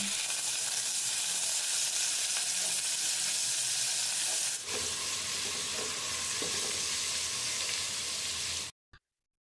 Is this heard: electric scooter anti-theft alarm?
no